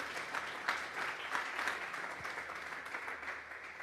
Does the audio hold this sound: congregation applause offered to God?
yes